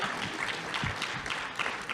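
Audience applause at a basketball talk, a short burst of clapping that stays steady and fairly faint through its length, with no voices over it.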